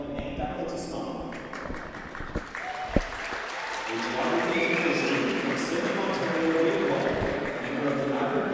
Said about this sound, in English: Veuillez donner un bon applaudissement.